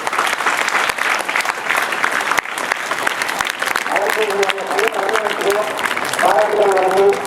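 Applause for a school headmaster at a teachers' award ceremony, a dense steady clatter of many hands that carries on throughout while voices rise over it in the second half.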